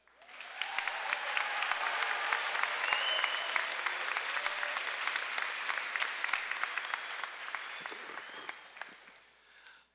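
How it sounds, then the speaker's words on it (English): Applause for the graduating class at a high school commencement, a crowd of hands that builds quickly, holds steady with scattered sharp claps and a few cheers, then tapers off near the end. "let's have a round of applause for this graduating class."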